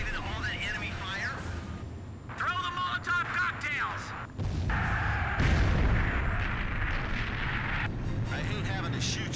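Enemy fire in Ace Combat 5 during a combat mission: rumbling distant gunfire and booming blasts roll beneath radio-style voices, growing into a heavier, noisier barrage midway.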